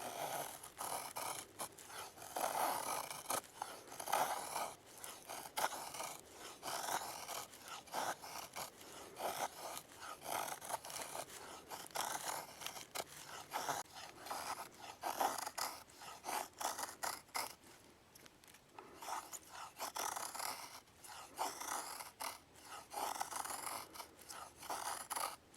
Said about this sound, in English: cutting out notches in a bow drill set